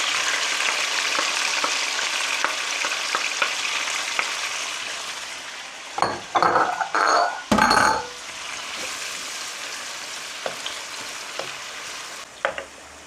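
Onion, tomato, garlic and ginger sizzle steadily in a hot pan, with louder bursts of frying and clinking of a utensil against the pan as the ingredients are added and stirred.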